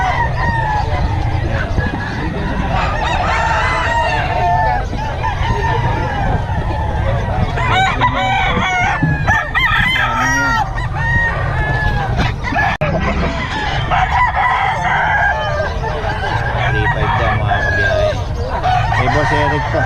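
Boston gamefowl roosters crowing repeatedly at dawn, several loud cock-a-doodle-doos and clucks from nearby birds, with people talking in the background throughout.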